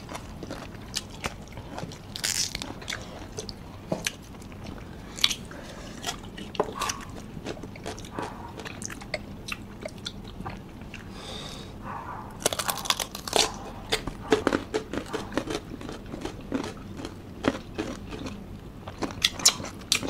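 Crunchy unripe mango eaten with alamang shrimp paste, bitten and chewed close up in a mukbang setting, with repeated crisp crunches and wet chewing over about twenty seconds.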